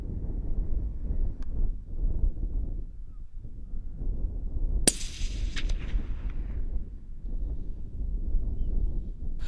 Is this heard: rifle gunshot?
yes